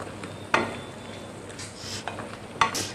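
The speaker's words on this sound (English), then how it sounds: "So do it when the tomatoes are frying." Quiet sizzling of tomatoes and onions frying in a pan, with a couple of sharp utensil clinks against the pan and soft stirring.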